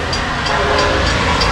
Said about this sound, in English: This train is set to arrive momentarily.